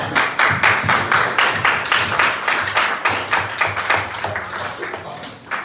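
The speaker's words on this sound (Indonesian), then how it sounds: "Tepuk tangan untuk kelompok." A small group of listeners claps for a presenting student group at a school, with rhythmic, fairly close handclaps in a steady run that gradually softens before a final few claps.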